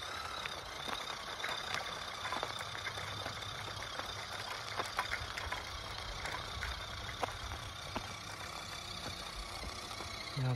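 JJRC C8809 RC crawler's small electric motor pushing a trailer in first gear, a continuous close, fairly faint whine and rumble with light ticking and clicks running steadily throughout.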